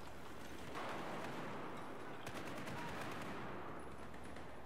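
Rapid video-game gunfire from shooting at an enemy soldier, a steady loud automatic rattle under a hiss of background noise, with no talking.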